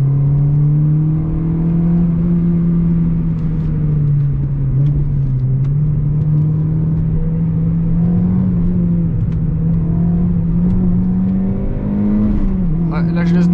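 A small hatchback pulls hard in second gear, its engine note climbing and holding steady with slight wavering as the car slides a little, loud and close throughout.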